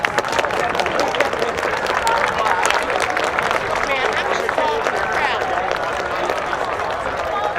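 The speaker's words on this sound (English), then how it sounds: "Please join us in giving all of these families a round of applause." Sustained applause from a school audience honoring military families at a high school Veterans Day celebration, dense clapping mixed with crowd murmur and scattered cheers, loud and continuous.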